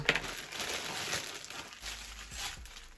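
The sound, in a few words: opening a plastic postal parcel packet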